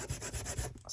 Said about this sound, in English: just give it a bit of a sand